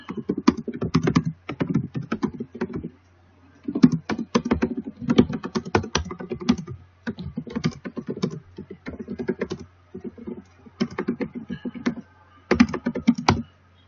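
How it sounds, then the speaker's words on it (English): Typing on a computer keyboard in irregular bursts of rapid, close key clicks separated by short pauses, with a low steady hum underneath and no talking. "you type your description."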